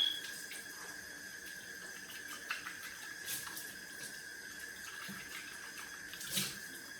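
Tap water runs steadily into a sink while a hamster cage bowl is rinsed and shaken, a soft continuous splashing stream with a few brief clatters and bumps of the bowl along the way.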